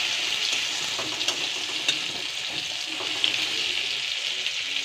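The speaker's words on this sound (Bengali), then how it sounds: "টমেটোটা ভাজা আমার প্রায় হয়ে এসছে।" Tomatoes frying in a pan with a dry-roasted, ground mix of coriander, cumin and garam masala, giving a steady bright sizzle with a few soft clicks and stirring taps, no voices.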